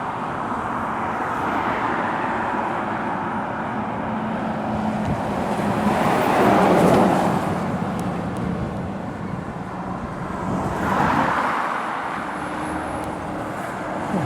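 DAF and Scania lorries pass along the A5 near Cannock, their tyre roar and engine noise swelling and fading as each one goes by against steady roadside traffic.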